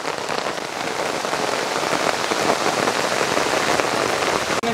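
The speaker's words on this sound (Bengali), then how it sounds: "আপু বৃষ্টি," Rain falls steadily on an open village courtyard in Bangladesh, a close, even hiss of drops pattering on the ground with no voices over it.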